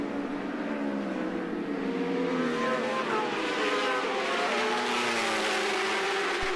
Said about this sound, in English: these 1000s getting to wind out on the long straightaways